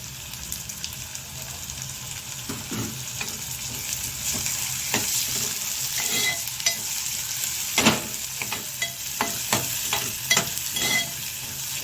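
Tomato and onion sauté in hot oil in a pan, a steady close sizzle broken by repeated scraping stirs of a spoon.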